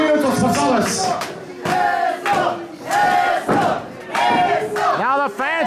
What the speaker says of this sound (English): Now the fans actually chanting and cheering for Dante to fight back